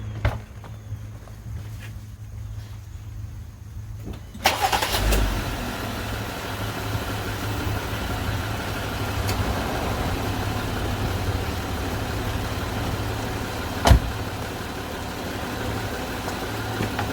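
A 2019 Jeep JL Wrangler engine starts after a few quiet seconds, then settles into a steady low idle with a constant rumble and faint hum, plus one brief click partway through.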